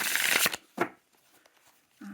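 A tarot card deck is shuffled in one quick, close riffle, followed by a short softer flutter and then near silence.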